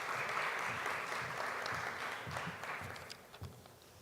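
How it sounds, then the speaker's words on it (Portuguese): Conference audience at the Fórum Branded Content Brasil 2018 applauding steadily, a dense sustained clatter of many hands that fades slightly toward the end. "Por favor, Camila, uma salva de palmas."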